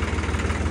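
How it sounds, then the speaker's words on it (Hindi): A New Holland 3630 tractor engine runs close by with a loud, steady, low throbbing pulse that repeats evenly, and no voices are heard. "ते स्टार्ट करते हैं ट्रैक्टर"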